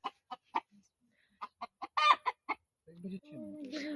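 Tame rooster clucking in a series of short, sharp calls, near and fairly loud, with a longer throaty vocalization at the end.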